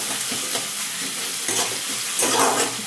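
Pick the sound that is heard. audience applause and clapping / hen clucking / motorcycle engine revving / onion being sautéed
onion being sautéed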